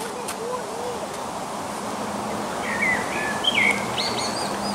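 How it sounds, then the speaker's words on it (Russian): Birds chirp and trill outdoors at a moderate distance, with a few clear whistled calls rising over a steady background of ambient noise and light wind. "Ой, птицы-то поют."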